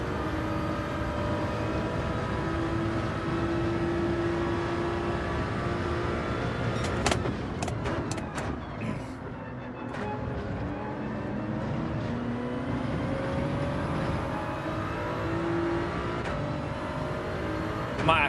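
Race car engine in Gran Turismo 7, a sustained high-revving drone that shifts pitch as gears change, with a brief burst of rapid shifts and downshifting midway under braking before the engine settles back to a steady howl.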